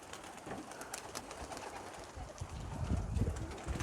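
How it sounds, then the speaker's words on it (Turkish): Pigeons coo softly in a low murmur inside a coop of nearly 100 birds, growing a little louder toward the end. "Tabi kuş kaynıyor. Şimdi çıkıyorlar"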